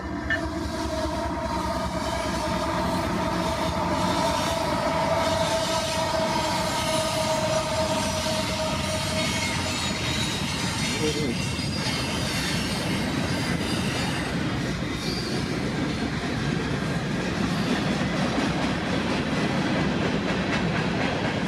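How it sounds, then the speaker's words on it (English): CPKC 421 freight train rolls past close by in a steady, loud roar of wheels on rail, with squealing tones and a faint horn-like hum in the first half. "symbol on this train is CPKC 421"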